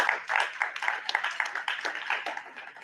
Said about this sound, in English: That's the most secretarial clapping you'll ever hear